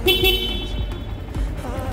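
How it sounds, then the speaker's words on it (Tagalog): A short, bright honk from a Honda Sniper 150 motorcycle's stock horn, sounded close by in two quick blasts over a low engine rumble. "Stock horn"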